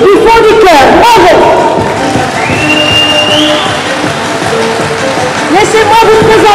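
A crowd at a cabaret dance show claps and cheers in a dense, rain-like wash, with a voice speaking over it near the microphone.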